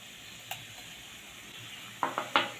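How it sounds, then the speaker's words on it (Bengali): Tomato paste with ginger, garlic, onion, chilli, turmeric and cumin stir-frying in a pan, a low steady sizzle under a few sharp scraping stirs near the end, close and moderately loud. "এবারে টমেটো আদা রসুন সব ভালো করে আমি যতক্ষণ না কাঁচা গন্ধটা যাচ্ছে ভালো করে কষিয়ে নেবো"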